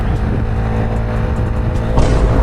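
Small Honda Grom motorcycle engine held at full throttle on a freeway, a loud steady droning roar with constant wind rush, swelling slightly louder near the end.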